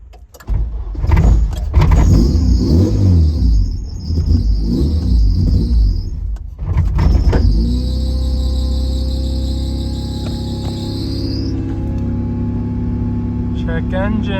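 A K-swapped Honda CRX engine cranking and catching, then revving and settling into a loud steady idle close by, with people talking over it.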